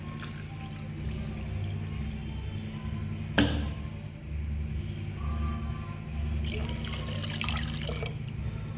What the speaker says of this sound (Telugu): ఇప్పుడు 1 గ్లాసు వాటర్ వేసుకుందాం.